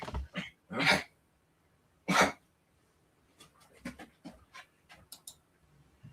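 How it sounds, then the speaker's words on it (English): Dogs pant in short, breathy bursts close by, a few louder huffs followed by quicker, softer panting in a quiet indoor setting. "That could be my dogs"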